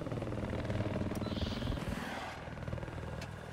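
An enemy helicopter in a multiplayer combat video game gives a steady, pulsing rotor thrum that holds loud and close, then eases slightly as other battle noise shifts around it.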